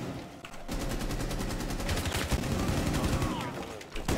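Rapid gunfire from the video game Rainbow Six Siege, with dense bursts of shots running nearly the whole time, loud and close, with players talking over the action.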